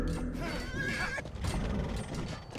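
Horses in Age of Empires II neigh loudly and close, a whinny rising over clattering hooves and mechanical game noise in a short, busy burst.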